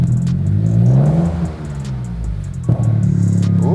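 Toyota GR Corolla engine started and revved after a spark plug change, heard close as a deep rumbling idle rising into revs that sweep up, drop back, then climb again.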